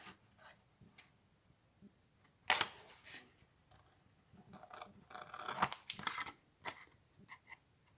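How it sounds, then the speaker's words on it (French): Scissors snipping through paper while cutting out a pencil-marked Christmas gift box for candles, a few sharp close crunchy cuts in short bursts amid quiet handling, no talk. "on prend les ciseaux"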